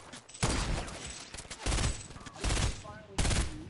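A FAMAS rifle fires in Fortnite in several loud rapid bursts with brief gaps between them, while voices chatter faintly underneath.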